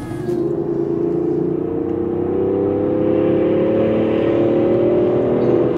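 A Range Rover Sport revving in sport mode, its engine note climbing smoothly and loudly over almost six seconds as a rising, whirring roar heard close up without talk.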